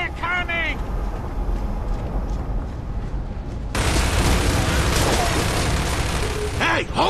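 Heavy automatic gunfire in a Gears of War 3 cutscene erupts midway into a dense, continuous roar of shots, with brief shouting voices before and at the very end.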